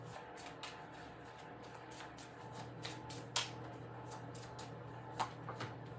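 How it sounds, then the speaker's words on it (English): Tarot cards are shuffled by hand in quick, papery riffles and soft slaps, a series of short bursts over a faint steady hum, with no voice. "I'm going to shuffle again and get you a new card."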